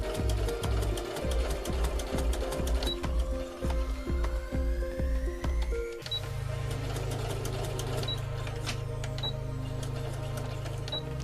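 A sewing machine stitches a doll sock seam in a fast, regular clatter, pauses briefly, then runs on with a steadier hum and rapid ticking, close by.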